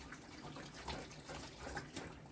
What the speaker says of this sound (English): Soak it with water and then with the shampoo.